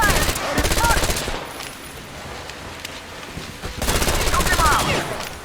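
Bursts of automatic gunfire in the post-apocalyptic shooter Metro: Exodus, a loud rapid rattle in two heavy volleys separated by a quieter stretch of scattered shots and battle noise.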